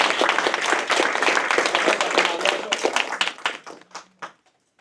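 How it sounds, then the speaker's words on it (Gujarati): An audience claps enthusiastically in a dense burst of applause that thins to scattered, fading claps before stopping, with no speech over it. "તમારા બધા માટે એક જોરદાર તાળી"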